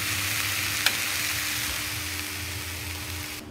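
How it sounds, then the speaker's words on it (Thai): Bee larvae stir-fried briefly in a pan to warm them make a steady, close sizzle with one sharp clink of a utensil and no talking. "ผัดให้มันร้อนเฉยๆไม่ให้มันเย็นนะ"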